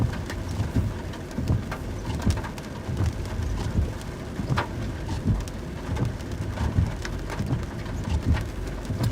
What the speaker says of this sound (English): You can see, you can actually hear the rain. It's starting to hit here.